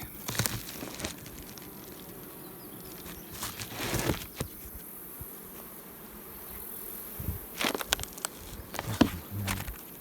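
Honey bees and drones buzz faintly inside a beehive, with scattered louder passes and rustling close by.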